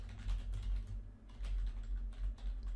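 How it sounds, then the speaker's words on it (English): Steady, close keyboard typing with quick clustered keystrokes and brief pauses, over a low background hum. "Hopefully I'm typing that out right."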